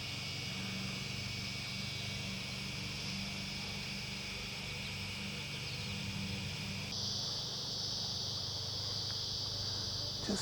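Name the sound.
cicadas chirping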